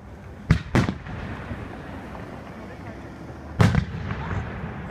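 Fourth of July fireworks in Brian Head, Utah, bursting as a quick double thump, then a single loud boom a few seconds later, each echoing over a quiet background of distant crowd noise.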